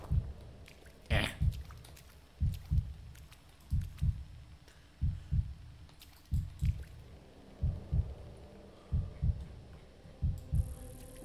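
Steady double-thump heartbeat from a scary video game, about nine paired beats at an even pace, low and muffled over a quiet hum, with a few faint clicks and a brief sharp noise near the start.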